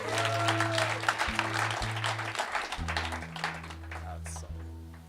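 Audience applause at an open mic night at The Whole Music Club, loud sustained clapping throughout while steady tones ring underneath.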